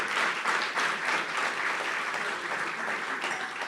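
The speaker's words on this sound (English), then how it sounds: "I also want to have everyone give a warm round of applause to LZ Granderson" An audience on the University of Chicago campus applauds warmly for LZ Granderson, a dense, even wash of clapping that holds steady and fades slightly toward the end.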